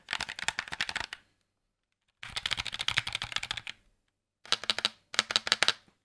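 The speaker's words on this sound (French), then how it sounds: "mais ça reste un clavier mécanique" Three bursts of rapid mechanical keyboard typing, crisp clacky keystrokes separated by short pauses, close and fairly loud with no talking.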